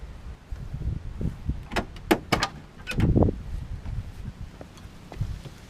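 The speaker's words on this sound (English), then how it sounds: "Open the door and get in if you want." Car door of a 1979 Pontiac Trans Am opening: a few sharp metallic clicks and latch clunks in quick succession, up close, over steady outdoor wind and background rumble.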